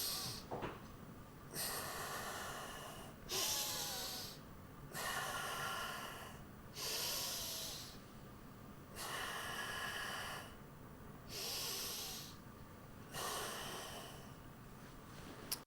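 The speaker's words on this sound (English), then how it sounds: "So that would be zone 1 breathing." Slow, deliberate deep breathing in a relaxation exercise: about six long airy inhale-exhale cycles with short pauses between, close to the microphone and quiet.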